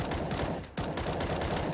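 Rapid CS:GO gunfire crackles at close range in a steady burst, breaking off briefly near the middle before another loud shot and continued firing.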